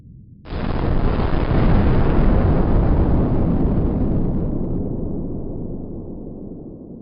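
A refinery explosion in Philadelphia erupts as a sudden deep blast, then a long heavy rumbling roar that slowly fades and darkens over several seconds, loud and alone without any voices.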